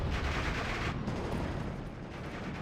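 Tank and anti-tank gunfire from a Pak 40, an M4 and a Panzer IV in the Steel Division: Normandy 44 battle game: a dense, continuous roar of battlefield shots and booms, loud and sustained without clear gaps.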